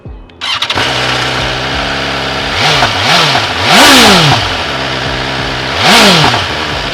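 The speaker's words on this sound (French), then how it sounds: "Attendez, je vais vous faire écouter la bécane." A motorcycle with its stock factory exhaust starts up and idles loudly, then is revved several times in sharp rising and falling blips, close and without talking.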